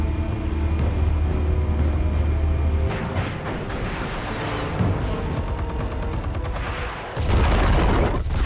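Explosives detonate in Batman: The Telltale Series, sounding as a loud low boom followed by a rolling, crackling rumble of debris and then a second heavy thud.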